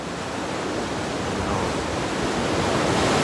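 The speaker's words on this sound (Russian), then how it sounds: "Океан бушует маленький." Pacific Ocean surf near San Francisco, a dense, continuous roar of breaking waves and rushing water, loud and steady, with no voices.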